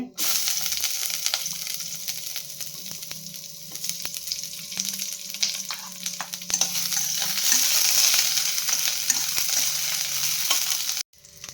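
Onion tossed into a hot pan for benne dosa filling, a faint steady hiss of frying with light scraping stirs and small crackles throughout, ending abruptly.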